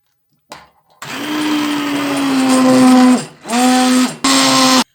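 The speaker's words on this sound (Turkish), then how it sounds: "Ocağımızı kapatıp çorbamızı blender'a verelim." A blender purees hot lentil soup, whirring loudly and steadily, briefly dipping and stopping twice near the end before spinning up again, with no talking.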